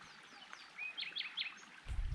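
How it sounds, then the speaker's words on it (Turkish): A bird sings a short series of three quick, bright chirps over a soft outdoor hiss with flowing water, ending in a low thump. "Kuş sesleri."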